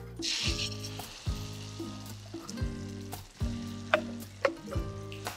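Ground spice paste for dum aloo hits hot oil and sizzles loudly, with repeated scraping stirs and clinks of a spoon against the pan, close up and with no talking.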